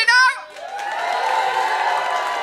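An online audience at a Beat The Frog comedy night cheers for a contestant: a brief loud shout at the start, then a steady wash of crowd cheering and whooping that holds at even volume to the end.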